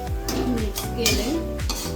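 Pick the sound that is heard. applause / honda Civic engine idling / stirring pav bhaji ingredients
stirring pav bhaji ingredients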